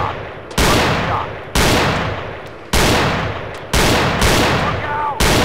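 Four loud gunshots in the Gun Club VR video game, each a sharp blast roughly one second apart that decays into a lingering echo, with a faint voice in the background.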